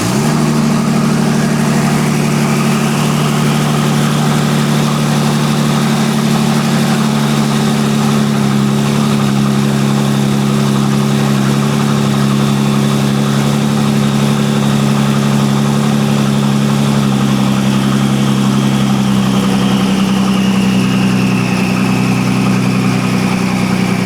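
A twin turbo VR30 V6 in an Infiniti G37 sedan idles with its downpipes disconnected, a loud, raw, steady low drone with a slight rise and fall in pitch, close up and without talk.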